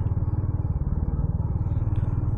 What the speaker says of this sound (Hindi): यहाँ ब्रेक दिए, थर्ड गियर डालेंगे। इंजन ब्रेकिंग बढ़िया है